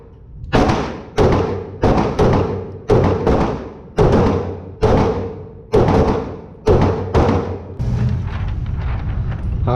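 Around ten loud, close pistol shots from a Glock 19X, Springfield XDS and Taurus G2C fired at a target, sharp booming reports in a fairly steady rhythm less than a second apart.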